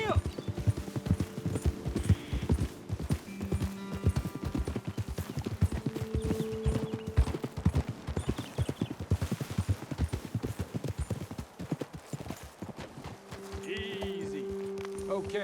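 Horses in the video game Red Dead Redemption 2 trot and gallop with rhythmic hoof clip-clops, a brief neigh and tack jingles, while characters talk over them and a low musical tone hums beneath.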